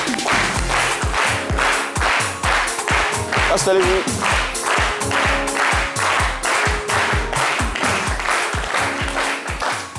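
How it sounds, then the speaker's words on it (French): A television studio audience on a midday show claps in rhythmic unison to welcome a guest, loud and sustained for the whole stretch, with a host briefly speaking over it. "Merci de renouveler vos applaudissements pour le recevoir."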